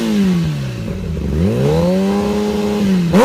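A Kawasaki sport motorcycle engine revving up and down, loud and close, with the pitch dipping then climbing and holding a strong, sustained roar before a sharp blip at the end.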